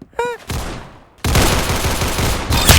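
Pistol fire in a shooter video game, a rapid burst of sharp shots followed by dense, sustained gunfire and a final louder crack, close and loud.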